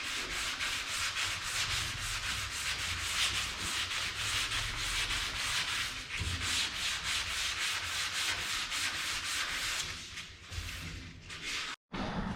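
Wood being sanded gives a continuous, loud rasping scrub with a fast rhythmic back-and-forth pulse, steady for about ten seconds before easing and briefly cutting out.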